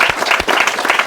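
Crowd at a state park birthday bash claps in a short, close burst of applause, dense and fairly loud, with distinct individual claps audible within the wash.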